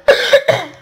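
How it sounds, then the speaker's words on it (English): A single close, loud cough bursts out in two or three quick rough spasms, ending with a short fading breath. "don't cough though."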